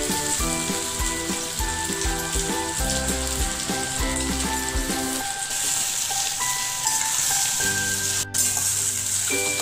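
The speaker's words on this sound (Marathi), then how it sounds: "आपल्याला छान परतून घ्यायचे आहे" Masala khichdi sizzles steadily as it is sautéed in a pan, a continuous hiss running beneath background music with no talking.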